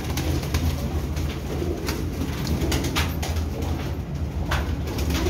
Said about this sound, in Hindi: सब परवाजी वजूदा वाले कबूतर